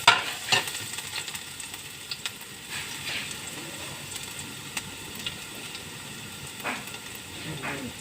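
Pork chao fan rice stir-frying in oil makes a steady close sizzle with scattered crackles and occasional scraping stirs, alone without talk.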